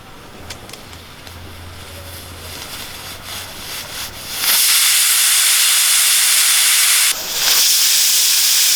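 A pressure cooker of rasam rice, after two whistles, hisses loudly as steam bursts out, a strong continuous rush that briefly dips before resuming, following quieter kitchen clatter.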